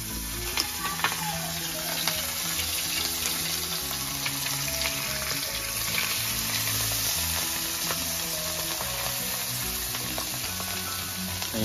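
Dried vakti fish fries in a pan over a wood-fired chulha, giving a dense continuous sizzle and spatter close up, with occasional soft clinks and no speech.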